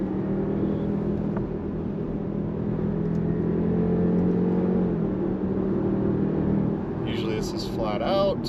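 Car pulling away from a near-standing start at the start line of the Pikes Peak road, its steady engine drone and tonal hum continuous throughout, with a brief higher whine near the end.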